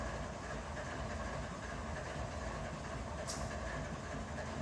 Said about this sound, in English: This is going to be the DPU on the rear of the train.